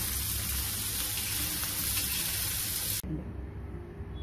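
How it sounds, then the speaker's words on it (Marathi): Paneer fries in a little oil in a pan over a low gas flame, giving a steady close sizzle that cuts off abruptly near the end, leaving quieter background hiss. "पनीर भाजून घेऊया। कमी गॅसवर याला भाजून घेते।"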